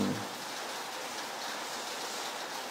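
Steady early-morning rain before dawn, a constant dense hiss of falling drops that stays even and close throughout, with no voices.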